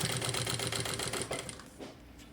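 Sewing machine running steadily as it stitches a zipper into the lining of a double box-style cosmetic bag, a fast even rattle of needle strokes that slows and stops near the end.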